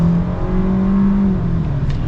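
A 2021 Kia K5 GT-Line revs and accelerates hard, its engine a loud, steady drone rising in pitch over about two seconds with no talking.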